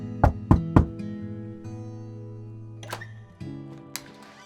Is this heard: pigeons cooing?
no